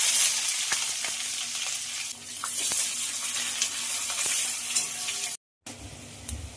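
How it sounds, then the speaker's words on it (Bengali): Onions sizzle and spit in hot oil, previously used for frying fish, with cumin seeds and bay leaf in the pan. A loud, steady crackle runs throughout with occasional stirring taps, and it cuts out briefly near the end. "আর দিলাম পেঁয়াজ"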